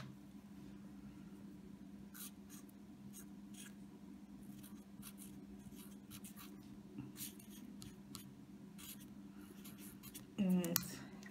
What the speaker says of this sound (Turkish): Üstüne bir de ismimi yazıyorum.